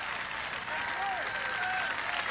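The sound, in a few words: crowd applauding a long beach volleyball rally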